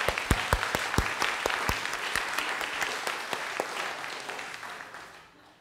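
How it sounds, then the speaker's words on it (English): Audience applause after thanks at a lecture on the science of desserts, with distinct sharp claps standing out near the front over a softer crowd wash, tapering off toward the end. "And of course, yes, a round of applause."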